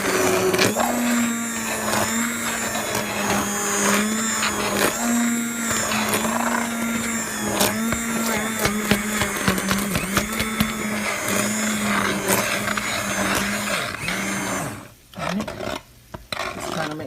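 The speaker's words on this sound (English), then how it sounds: "That's from those vegetables being blended into the liquid here." A blender runs continuously, churning vegetables into a thick liquid soup with a steady loud whirring motor and grinding texture, then briefly cutting out and restarting near the end.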